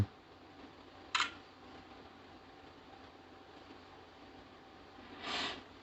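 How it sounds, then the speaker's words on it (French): Vivo Y70 smartphone camera taking a photo: two brief, soft shutter clicks several seconds apart over a quiet background hum. "On va se prendre une petite photo."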